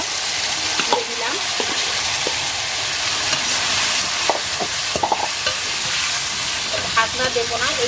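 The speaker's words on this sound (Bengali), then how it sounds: "ঢাকনা দেবো না, এইভাবে ফ্রাই করে নেব উচ্ছেগুলো।" Pieces of bitter gourd (karela) fry uncovered in hot oil, a dense, continuous sizzle close by, dotted with light clinks and taps of stirring.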